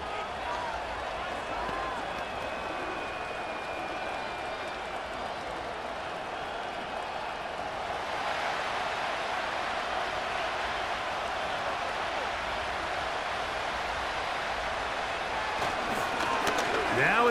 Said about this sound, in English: they're going to hear it from this crowd